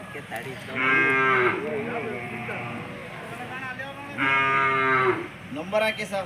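Cattle at a rural bullock fair low twice in long, loud, drawn-out moos, with people talking close by throughout.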